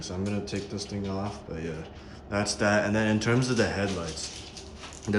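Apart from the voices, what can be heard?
No everyday noise stands out behind the speech.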